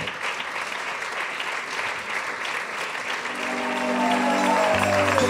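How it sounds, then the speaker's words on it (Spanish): A church congregation applauding during a worship service, steady sustained clapping from many hands that fills the room, with music tones rising underneath toward the end. "Le doy un aplauso al Señor y terminamos."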